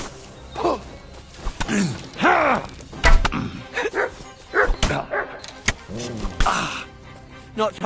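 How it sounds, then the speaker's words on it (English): A dog in the video game Kingdom Come: Deliverance 2 barks and yips in repeated short bursts at close range, mixed with whimpers and a voice talking over the game. "That dog just does what he wants"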